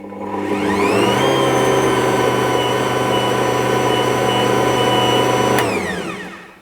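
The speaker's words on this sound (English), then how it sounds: "with the mixer running the whole time, I'm going to gradually add in my butter and mix it" An Ankarsrum stand mixer kneads Finnish cinnamon bun dough, its motor rising quickly to a loud, steady whir that holds for several seconds before winding back down.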